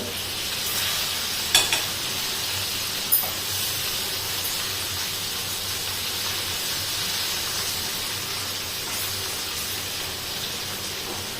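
Chickpeas deep-frying in hot oil for crispy masala chana, a steady broad sizzle with continuous bubbling hiss, a couple of sharp clinks from a stirring spoon early on, no voices.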